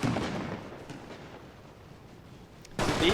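Rifle grenades and artillery in a Great War game battle between the Russian Empire and the Red Army: a rumbling, booming wash that fades, then a fresh sharp blast near the end.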